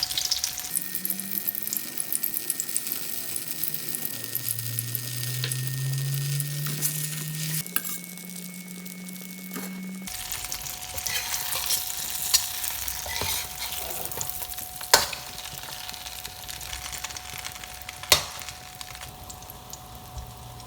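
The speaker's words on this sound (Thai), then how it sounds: "ทอดด้วยไฟอ่อนต่อไปนะครับ" An omelette stuffed with minced beef and basil fries on low heat, a soft continuous sizzle with occasional clicks and a brief tonal hum in the background.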